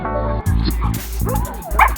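A dog in controlled-aggression sleeve bite training gives several loud, close barks and yips in quick bursts, with whimpering sounds between them.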